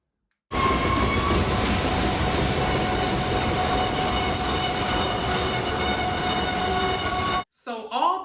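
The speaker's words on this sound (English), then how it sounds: "Here comes a shiny new engine" A shiny new train engine pulls in, a loud, steady rail rumble with high squealing wheels and ringing tones that holds for about seven seconds, then cuts off abruptly.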